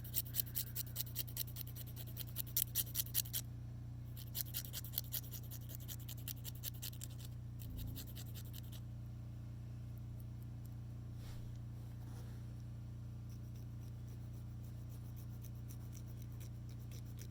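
Fake nails being filed by hand with a nail file, a soft rhythmic scratching of quick repeated strokes in bursts, close and fairly quiet over a steady low hum, fading out partway through.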